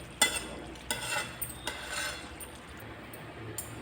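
Semiya upma stirred in a pan, a spoon scraping and clinking against the metal in a few sharp strokes with quieter stirring between, close and without talk.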